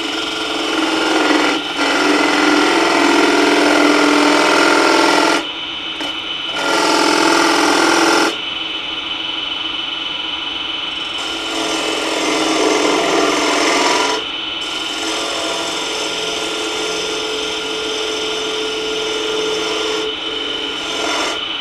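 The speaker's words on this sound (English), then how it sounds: "1/2 inch spindle gouge." Wood lathe spinning a workpiece while a 1/2 inch spindle gouge cuts, a steady close hiss and rasp that swells in long loud passes and drops back between cuts, no voices.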